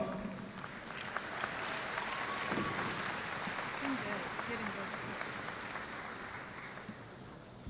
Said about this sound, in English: Keep the applause up.